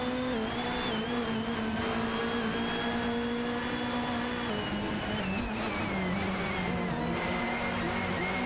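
Racing cars in a racing video game, including a Vauxhall Vectra, whine around the track with sustained engine tones that rise and fall in pitch as they shift and corner, a steady droning pack without speech.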